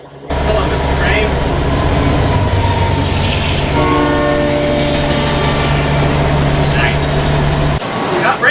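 A train passing close and loud, a steady low rumble with wheel clatter and a sustained horn blast in the middle, fading abruptly at the end.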